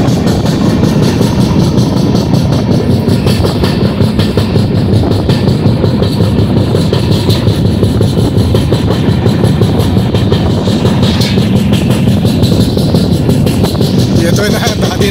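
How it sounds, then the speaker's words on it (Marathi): Train 18520 wheels rattle over the rails in a fast, steady rhythmic clatter like tabla beats, loud and close from inside the moving carriage, with engine rumble underneath. "त्या चाकाचा आवाज कसा येतोय बघा, तबला वाजवल्यासारखा"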